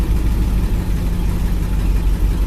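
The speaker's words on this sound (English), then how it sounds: "Oh yeah, it's idling good. It's idling good. It's still cold." A Chevrolet El Camino engine idles steadily while still cold after a starting-fluid start, a continuous low rumble holding even and close throughout with no revving.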